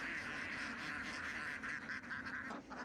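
Flock of ducks on a rice farm quacking and honking together, a dense overlapping chorus of calls heard from fairly close, faint overall with no voices.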